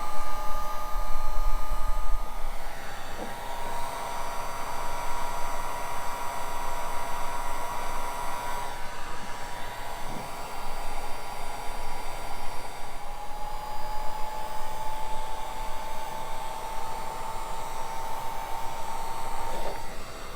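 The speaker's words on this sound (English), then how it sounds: "It's got a low and a high setting. We're just going to use it on the low here." A heat gun on its low setting shrinks heat-shrink tubing on wiring for a KC Slimlite LED light install on a Jeep: a steady, close blowing roar with a thin whine running through it.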